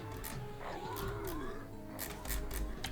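A pet cat lets out a drawn-out, wavering meow close by, with soft rustles and quiet clicks around it.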